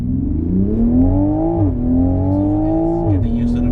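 Toyota GR Supra with 500 Nm of torque accelerating hard on an airstrip, engine revving up through two rising pulls with quick gear changes between them, loud and close from inside the car, while a person talks over it.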